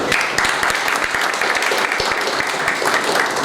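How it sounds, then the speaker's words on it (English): Audience applause at a university event, a steady broadband wash of clapping sustained throughout at moderate level, with no distinct voices above it. "Big round of applause for all of them."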